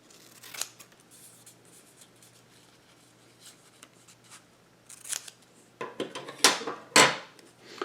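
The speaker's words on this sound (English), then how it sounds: "I'm going to cut off these angles here" Scissors snip the corners off a paper triangle, with several sharp, crisp cuts that grow louder and denser toward the end, close by and with no talking.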